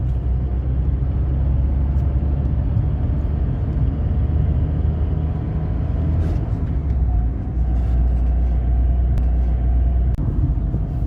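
A Tata Tiago hatchback running on CNG accelerates from a standstill toward 100, its engine a steady, continuous low rumble heard from inside the car with no talking.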